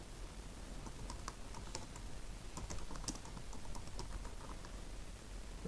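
Fast, steady typing on a computer keyboard, a close run of light clicks and taps with irregular rhythm and no voices.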